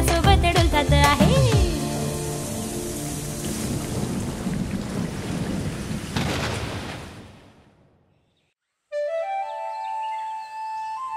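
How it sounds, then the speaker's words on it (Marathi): A thunderstorm with heavy rain, with loud booming thunder at the start over a dense roar of rain. The storm fades out to silence, and a bright synthetic musical tone follows. "श्रावणात श्रावणात गरजत बरसत खूप पाऊस येतो आहे"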